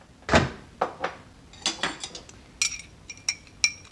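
Melted chocolate chips being taken out of a microwave oven in a home kitchen, with a door thud and a series of light clinks and knocks of a dish and utensils, close and sharp, no talking.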